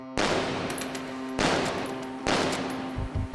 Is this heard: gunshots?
yes